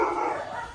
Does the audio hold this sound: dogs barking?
yes